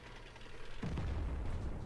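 Tank guns open fire in a tank battle video game, with a sudden heavy low boom about midway followed by sustained rumbling cannon fire and mechanical clatter, no talking.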